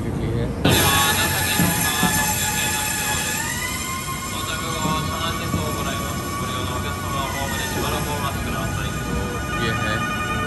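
A Nankai Express train pulls into a station in Japan, with loud rumbling wheels and a sustained high metallic squeal and tones. The sound is close and continuous throughout.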